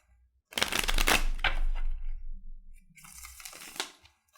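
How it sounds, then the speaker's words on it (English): A deck of tarot cards shuffled by hand at close range, giving a dense riffling burst that tapers off, followed by a shorter second round of shuffling. "I'm going to take this part, flip them the opposite direction of how they were, and shuffle"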